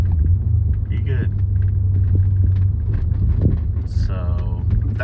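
Steady low rumble of a 1993 BMW 850Ci cruising around town, heard from inside with a person speaking over the engine.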